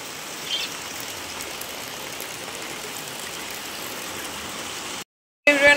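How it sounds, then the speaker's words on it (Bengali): Heavy rain pouring steadily outside, a constant dense hiss, then a brief silence near the end before a short, louder burst of noise. "এই যে ভালো করে বোঝা যাচ্ছে এখন যে কি ঝমঝম করে বৃষ্টি নেমেছে"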